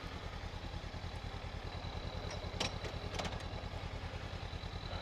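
A motorcycle rumbles steadily during a ride with no set destination, its engine pulsing fast and even, with faint clatter and a couple of brief knocks.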